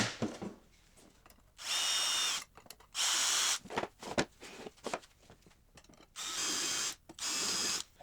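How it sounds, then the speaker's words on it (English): A power drill whirs in four sustained bursts of about a second each, drilling pilot holes in wood, separated by quieter pauses with small clicks and handling noises. "So you want to pre-drill those 2."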